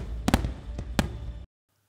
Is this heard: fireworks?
yes